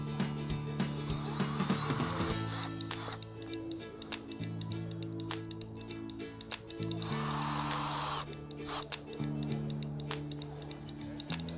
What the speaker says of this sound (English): And now all that's left is just to tighten the screws.